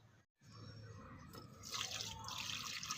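Water poured onto dry garden plants, a soft trickling and splashing that follows a brief silence and grows fuller toward the end, faint and close with no talking.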